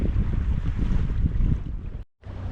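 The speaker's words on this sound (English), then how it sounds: "We had to motor because there wasn't enough wind to sail." Steady low engine drone and wash of a sailboat motoring across calm Lake Superior on a windless day, continuous and fairly loud, with a brief dropout near the end.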